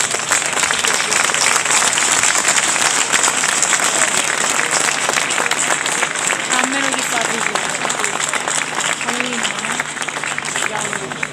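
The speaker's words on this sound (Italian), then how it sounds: "io vorrei un grande applauso per Giovanni" An audience at a carnival float-builders' award ceremony in Acireale applauds, loud continuous clapping from a large crowd lasting many seconds, with voices and crowd murmur mixed underneath.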